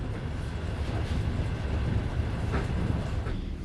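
A passenger night train from Bucharest to Kyiv rolls on its rails in winter, heard from inside a compartment as a steady, close, low rumble with faint rhythmic clatter and no voices.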